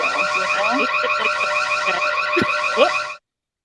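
A phone alarm plays loudly and continuously, a rapid repeating electronic tone pattern with a few brief blips mixed in, then cuts off suddenly.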